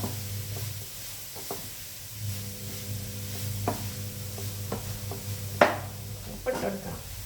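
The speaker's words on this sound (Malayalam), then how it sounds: "അങ്ങനെ അതിങ്ങനെ ഇളക്കി കൊടുക്കുക" Shredded cabbage sizzles gently in a pan with a splash of water while a spoon stirs and scrapes it, giving soft irregular knocks and a louder clack near the end over a steady low hum.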